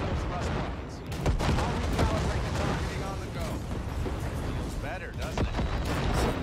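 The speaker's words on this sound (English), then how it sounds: "Just keep shooting at those rust marks." Rapid bursts of gunfire in a Cyberpunk 2077 firefight, loud and continuous with dense crackling shots and impacts filling the clip, while a voice talks over the action.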